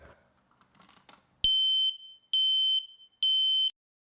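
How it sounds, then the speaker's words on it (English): A smoke alarm being tested sounds three loud, piercing, steady beeps of nearly a second each at an even pace, close and alone after a faint rustle. "Test smoke alarms monthly."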